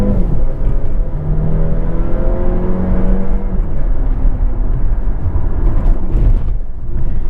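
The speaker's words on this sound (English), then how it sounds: "I would call that acceleration smooth and peppy, the automatic transmission doing its job there." 2024 Dodge Hornet R/T plug-in hybrid with automatic transmission accelerating, a smooth engine drone heard from inside, with rising tones that sweep upward through several shifts and steady road noise underneath.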